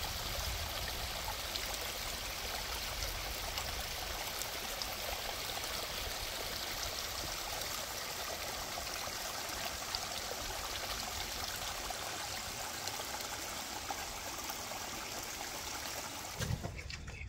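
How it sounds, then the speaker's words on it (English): Steady running water from a temporary stream on a pig farm, a continuous trickling and rushing that stays even throughout, with no voices. "It's kind of cool to have running water"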